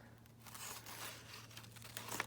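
Scissors cut out a paper picture close by, quiet crinkly snips and rustling paper under a low steady hum.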